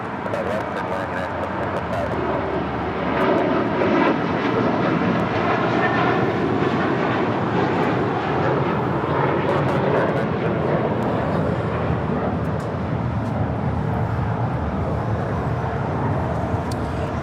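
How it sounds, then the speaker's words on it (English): A nine-year-old American Airlines Airbus A321 in PSA retro livery takes off at LAX, a loud rising jet roar that swells around the fourth second and rumbles on, with voices talking intermittently over it. "That is American Airlines 1974 taking off to Dallas Fort Worth on a 9-year-old A321 in the PSA retro livery"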